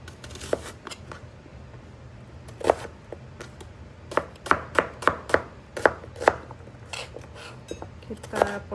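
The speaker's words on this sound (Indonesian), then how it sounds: "Kita potong-potong sebelum kita blender, kita potong-potong semua dan tunggu kita blender." Boiled dried chili peppers are chopped with a knife on a board for sambal, irregular close knocks that grow to a quick run of sharp cuts and then slow again.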